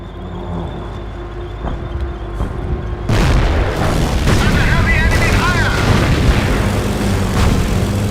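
A Henschel aircraft airstrike in Company of Heroes opens with low rumbling ambience, then a sudden heavy boom starts a sustained run of loud, rolling explosions and crackling blasts, with a voice talking over the chaos.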